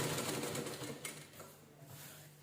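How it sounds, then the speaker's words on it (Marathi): A sewing machine runs in a short burst, stitching two pieces of cloth together for a cushion cover, a fast even mechanical chatter that slows and fades after about a second. "व्यवस्थित असं दोन्ही कपडे एकसाथ धरायचे आणि स्टिच करून घ्यायचं"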